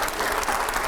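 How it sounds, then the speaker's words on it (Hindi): A studio audience at a live political interview event breaks into a brief, dense wash of applause, steady and moderately loud for under a second. "चलिए जोरदार तालियां हो"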